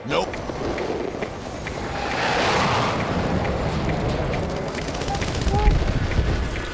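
Rapid machine gun fire rattles in fast repeated bursts during Battlefield 6 combat, moderately loud, with someone talking over the shooting and battlefield rumble underneath.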